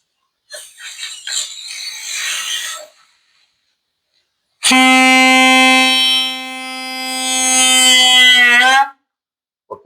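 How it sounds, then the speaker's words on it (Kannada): A homemade pipe horn blasts a loud, sustained train-like tone for about four seconds, following a stretch of rustling and handling noise. "ಆ ಶಬ್ದ ಟ್ರೇನಿನ ಹಾರ್ನಿನ ರೀತಿಯಲ್ಲಿಯೇ ಇರ್ತದ ಕೇಳಿ ಸ್ನೇಹಿತರೆ"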